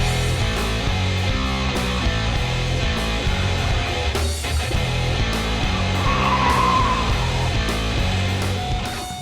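A 2014 Mercedes-Benz GL63 AMG SUV, a 2.5-ton vehicle, accelerates hard with a loud, sustained engine roar and tire noise close by, with no talking.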